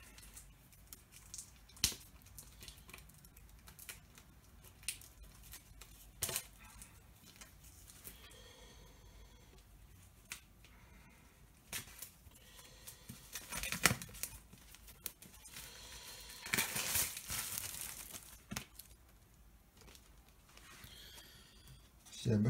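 A Pokémon Shiny Star V Crobat V box being opened and unwrapped, with scattered crinkling, tearing and handling noises and a louder burst of plastic rustle near the end, close by and mostly without speech.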